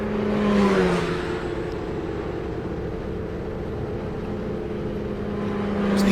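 An autonomous Indy race car, part of a multi-car race at CES 2025, roars past on the track, its engine note swelling loudly near the start and again at the end over a steady mechanical drone.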